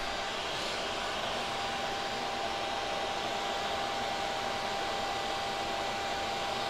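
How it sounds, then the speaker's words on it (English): A vacuum runs steadily while sucking yellow jacket wasps out of a massive ground nest, a loud continuous broadband whoosh with no break and no voices. "the vacuum, if it gets too close, it will actually suck up the comb and actually break it apart"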